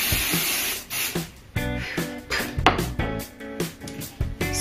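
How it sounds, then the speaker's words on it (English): Hairspray sprayed onto curled long hair, a series of short sharp aerosol hisses in quick bursts, close and fairly loud, separated by brief gaps. "Stronger than the hairspray I use at home."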